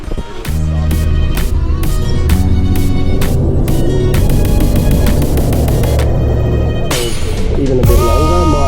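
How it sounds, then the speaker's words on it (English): A 4WD vehicle churns through deep mud on a filthy, rain-soaked track, its engine droning loud and steady close by with rough, rumbling texture throughout. "Just going through some mud, deep mud."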